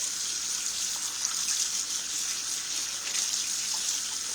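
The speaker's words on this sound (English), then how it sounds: "now I'm going to rinse it all off with hot water" Hot water runs steadily from a tap, a continuous bright hiss and splash with no pauses or voices.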